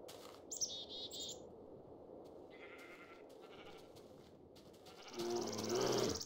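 A donkey in Minecraft, played on the Technic modpack, gives short harmonic braying calls: a pair near the beginning, a brief one midway, and a louder, longer cry at the end over quiet game ambience.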